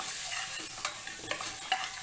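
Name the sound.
sautéing spices in ghee or oil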